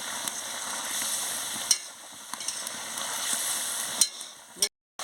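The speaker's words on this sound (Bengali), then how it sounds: "দেখুন বন্ধুরা কি সুন্দর ফুটছে, ফুটে ফুটে তেল বেরিয়ে যাচ্ছে" Prawn malai curry bubbles and boils hard in a pan with oil separating on top, making a busy sizzling hiss with occasional stirring clicks before cutting off abruptly near the end.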